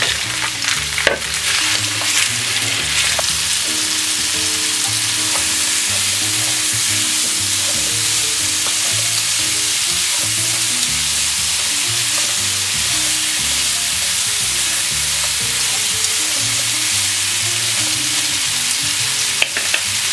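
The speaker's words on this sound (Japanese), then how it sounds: "かぼちゃを炒めていきます" Paraguayan gourd-shaped pumpkin stir-fried in oil, with a steady close sizzle and bursts of spatula scraping against the pan running through the whole stretch, no voices.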